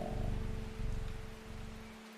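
Soft rain falling in the video game Strange Horticulture, a steady hiss of raindrops with a faint low hum beneath, quiet and even, fading slightly toward the end.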